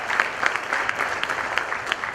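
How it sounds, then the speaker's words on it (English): An audience applauds the top six finalists at a company event, giving steady, close clapping from a modest crowd that carries on without pause for a couple of seconds. "Let's give them a huge round of applause."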